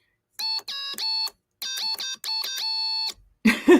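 Oskitone Scout synthesizer keys mashed in quick bursts, bright harmonic electronic tones playing short note clusters in several separated runs, loud and close, followed by a brief noisy clatter at the end.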